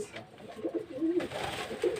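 Pigeons coo softly nearby, a few low, rolling throaty calls repeating over light background noise.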